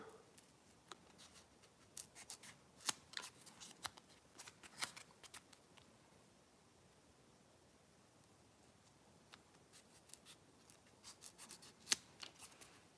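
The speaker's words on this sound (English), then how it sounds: "Then we are going to cut a little tail shape." Scissors snip a thin strip of foam into a small tail shape for a crawdad fishing jig, giving quiet, close crisp cuts in two bursts with a pause between, no talking.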